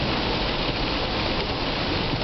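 Rain pours steadily onto a taxi, a dense, even hiss of drops on the car close to the microphone, continuous and loud with no speech.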